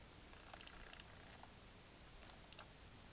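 A camera's shutter fires with a few brief, quiet mechanical clicks spaced apart over a soft background hiss, with no talking.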